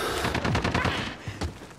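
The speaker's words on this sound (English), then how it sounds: "Damien, shoot that guy." Rapid automatic gunfire from Call of Duty: Modern Warfare, dense bursts of shots rattling close and loud, thinning into a few scattered cracks near the end.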